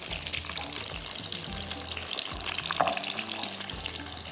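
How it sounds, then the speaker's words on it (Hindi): Frozen chapli kebabs fry in a pan over low heat, a steady close sizzle with bubbling crackle and low rhythmic thumps beneath, no talk. "तो यहाँ पर हम इसको करेंगे फ्राई"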